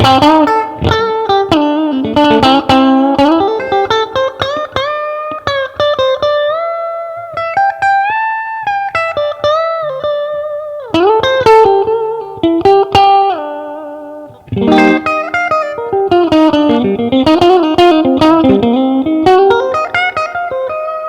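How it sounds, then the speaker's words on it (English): A clean Fender Custom Shop '54 60th Anniversary Stratocaster, two pickups combined, plays a melodic line of plucked notes and chords, bright and slightly warm, with no voices. "so classic Strat tones, but just a little bit fatter"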